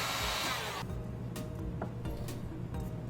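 A heat gun blows steadily up close while reheating Worbla thermoplastic on a handmade wand, a constant breathy roar with a few light taps and handling sounds over it.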